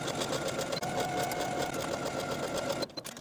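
A sewing machine stitches a 3/8-inch seam along the crotch of a pant piece for a jumpsuit. It runs as a steady, close, continuous whir for about three seconds, then stops abruptly.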